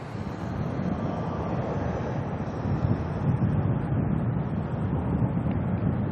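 A China Southern airliner departing Auckland Airport, heard as a steady, loud low roar of jet engines with wind-like rumble that holds and slightly swells throughout, no talking.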